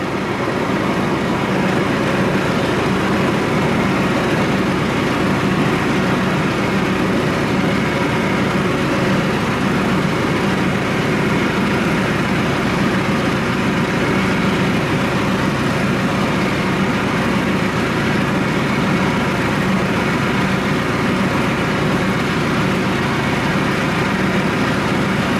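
A tractor powers an 8 ft rotary cutter bush hog, its heavy engine and spinning blades making a steady, loud, low droning rumble that continues unchanged throughout.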